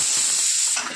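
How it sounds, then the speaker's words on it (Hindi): Dry spices such as cumin, sesame, coconut and cashews roast in a hot pan for a Hyderabadi brinjal gravy, giving a close, steady hiss and crackle that fades slightly at the end. "काजू भी है, खोपरा है, तिल है, जीरा है, अच्छे से भून लेंगे।"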